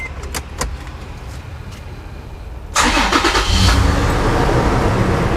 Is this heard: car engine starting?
yes